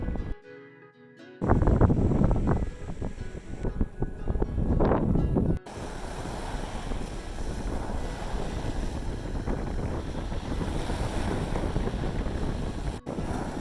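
Steady roar of surf washing onto a beach on the Gulf of Valinco at Propriano, Corsica, broad and continuous, with wind buffeting the microphone and a brief burst of louder rumbling early on.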